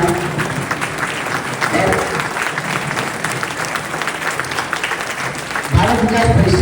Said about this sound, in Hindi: एक बार अपने स्थान पर खड़े होकर तालियां बजाएं